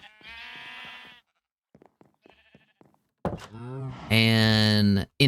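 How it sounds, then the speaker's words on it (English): Several loud sheep bleats from Minecraft, with separate calls early and a strong sustained bleat near the end, broken by faint soft thuds between them. "I also have some sheep running through here with a whole bunch of extra stock."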